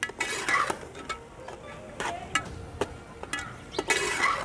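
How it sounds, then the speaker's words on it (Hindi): A spoon stirs peas into matar pulao in a pot, giving intermittent scraping and clinking strokes against the metal with soft rustling of rice between them, close and moderately quiet. "और ये इसमें जो मटर हैं वो ऐड करेंगे। इसको अच्छी तरह मिक्स कर लेते हैं"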